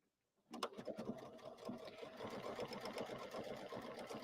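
A sewing machine stitches a buttonhole, starting abruptly after a brief silence and then running in a fast, steady, close mechanical chatter throughout.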